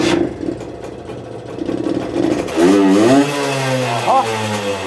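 A Herkules K50 moped with a tuning exhaust starts up and revs, the engine firing after a brief lead-in and then climbing and falling in pitch through several loud, close blips before settling to a steady run.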